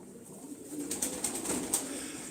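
Purebred Sivas pigeons coo softly in a low murmur, with a few brief wing flaps and rustles nearby, faint and close with no voices.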